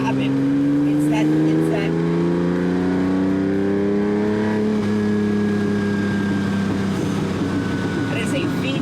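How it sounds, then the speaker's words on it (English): A Lamborghini Countach's downdraft Weber-carbureted V12 of nearly 500 horsepower roars loudly from inside the cabin, its pitch rising steadily under acceleration and then settling into a sustained drone. "that is a V12, almost 500 horsepower, Weber carburetor stacked, and when you punch it, you almost feel the fuel go through the engine"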